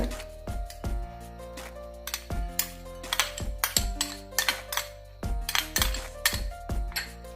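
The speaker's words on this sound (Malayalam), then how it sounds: "ഇതിലേക്ക് കടലയിടാം" Chickpeas or peanuts dropping into a bowl for a healthy salad, heard as irregular bright clinks and rattles that ring briefly, close and clear, with short pauses between handfuls.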